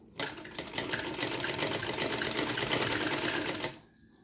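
Sewing machine stitching small fabric pieces together runs in one steady, fast whirring burst for about three and a half seconds, close and fairly loud, then stops.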